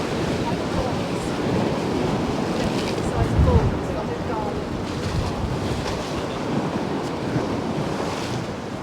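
Waves break and surge continuously at the Paphos moorings, a steady roar of surf mixed with gusting wind buffeting the microphone, with one heavier crash partway through.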